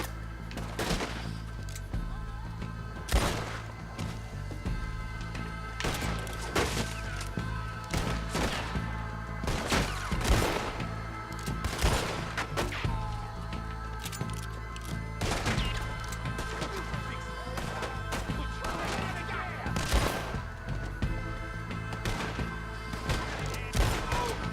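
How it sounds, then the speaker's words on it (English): Red Dead Redemption 2 combat: repeated loud gunshots and bursts of automatic fire with crashing explosions, sporadic and punchy over a steady background hum. "Wow, there's some loud ass explosions."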